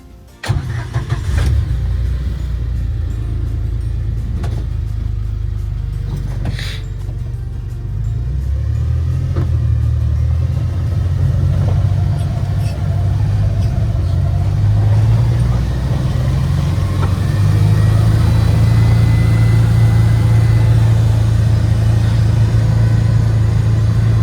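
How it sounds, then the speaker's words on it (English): Arctic Cat Prowler Pro UTV, fitted with a poly windshield, driving on a test run: a steady low engine drone and road rumble fill the whole stretch, growing louder and rising in pitch as it accelerates, with no talking. "let's take a little test drive to see how this thing"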